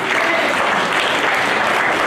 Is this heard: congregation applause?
yes